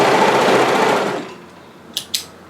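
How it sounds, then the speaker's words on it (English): An overlocker stitches the hem of a knit one-shoulder sweater in a loud, rapid whir for about a second, then stops, followed by two short clicks. "just overlock as far as you can to secure that without cutting off any fabric"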